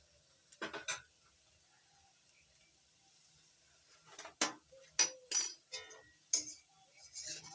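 Metal spoon clinking and scraping in a pan as a cauliflower chop mixture is stirred, with scattered light clinks early, then a run of louder, irregular scrapes and taps close by.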